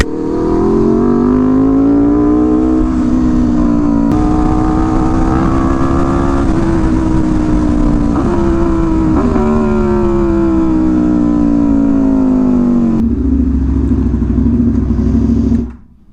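A motorcycle engine roars loudly and close, holding high revs with slight rises and dips, then drops to a lower idle before cutting off.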